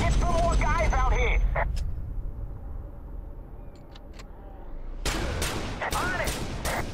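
Gunfire in the video game Watch Dogs, a burst of loud sharp shots at the start, then quieter game ambience before another cluster of shots near the end, with voices talking over the opening.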